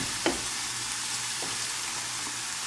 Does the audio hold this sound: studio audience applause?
no